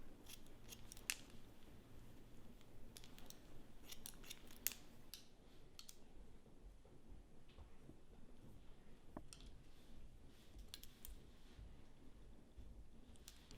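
Scissors snip steadily through hair during a men's haircut, a rapid run of close, crisp cuts repeated throughout with no talking.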